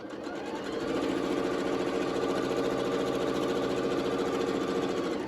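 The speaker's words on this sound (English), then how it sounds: "I'm just sewing a square." A sewing machine runs steadily while stitching a fabric square for a pocket face mask, its motor a continuous close, even whir with rapid needle chatter that starts softly and holds at a constant level.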